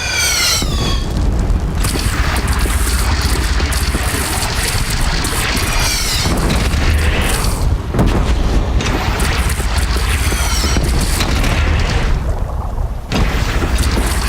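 Cannon fire from a platform in Horizon Zero Dawn: repeated heavy booms and explosive blasts amid a continuous roaring battle din, with whistling projectiles and little talk.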